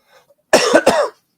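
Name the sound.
cough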